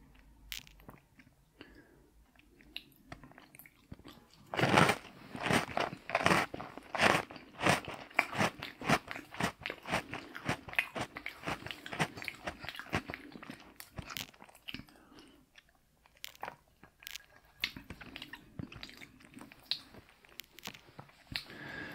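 Oreo cookies eaten close to the microphone in quiet: sharp, irregular crunches and bites in dense clusters, followed by softer, wetter chewing and crackles.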